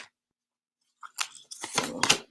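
Oracle cards being shuffled by hand: after a silent opening, a few soft papery riffles and crisp flicking bursts come close and clear, alone, with no talk.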